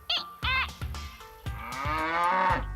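A cartoon cow moos several times, short loud lowing calls followed by a longer drawn-out moo, clear and close against a quiet background with no speech.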